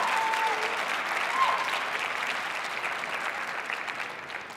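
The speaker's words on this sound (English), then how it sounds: "if we could just give them a round of applause" A round of applause for family and friends at a nurse pinning ceremony, a large audience clapping steadily and fairly loud throughout, slowly tapering toward the end.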